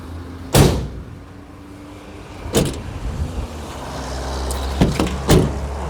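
A 2020 Renault Master L3H2 van door is shut gently, giving a soft thud, followed by further muffled clunks and latch knocks. The sounds are close-up with no talking.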